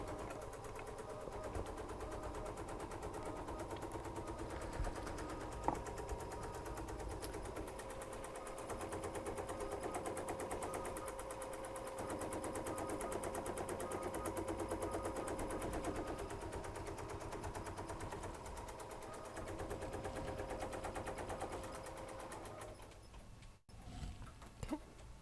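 An embroidery machine stitches a stripe design on a hooped piece, a continuous rapid mechanical whirring and buzzing with fine rhythmic needle chatter that runs steadily before briefly cutting out near the end.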